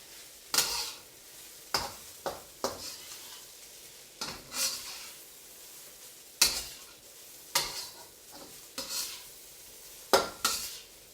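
Sesame oil being stirred into fried rice in a hot pan, with repeated scraping strokes of a utensil against the pan at irregular intervals over a soft sizzle, close by.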